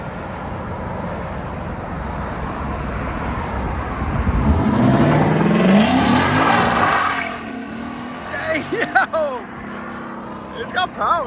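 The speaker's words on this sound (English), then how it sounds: "So this is round one with the valves closed." A 2022-2025 Lexus IS 500 5.0L V8 revs with its exhaust valves closed, a subdued engine note swelling into one strong rev and then dropping back, followed by short blips and idle.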